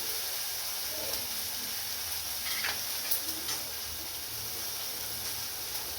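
Tamarind being stirred and fried in a pan for a home lunch dish, giving a steady, even sizzle with faint scraping and stirring ticks throughout and no voices.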